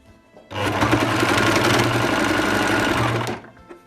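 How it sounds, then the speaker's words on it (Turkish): A sewing machine runs steadily for about three seconds stitching the edge of a blanket lining, giving a loud, fast mechanical whir and rapid needle chatter close to the microphone, with no talking. "Ve bu kenarını dikiyorum."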